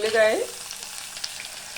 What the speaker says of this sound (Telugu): ఆయిల్ వేడైనాక తాలింపు గింజలు